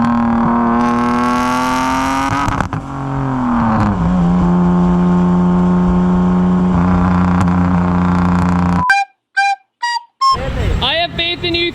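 A single-turbo Mitsubishi 3000GT VR4 engine revs loud and close, pitch climbing then settling into a sustained high drone before cutting out, followed by a few short chirps and a renewed rising whine.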